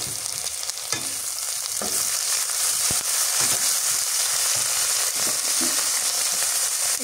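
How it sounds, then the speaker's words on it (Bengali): Chilli, onion and bay leaf fry in oil as garlic and onion paste go in for a village-style beef and pumpkin curry: a dense, constant sizzle with intermittent stirring clicks and scrapes, close and loud. "মরিচ পেঁয়াজ তেজপাতা ভাজা হয়ে গেছে, এবার দিয়ে দিই রসুন বাটা আর পেঁয়াজ বাটা দিয়ে দিই।"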